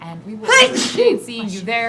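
A single sneeze bursts out mid-sentence while a person is speaking, loud and close, with talk continuing right after it.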